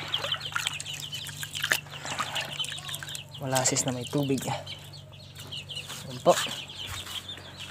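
Chickens cluck and call nearby in bursts, with a brief flutter of wings, while a person talks briefly over the birds.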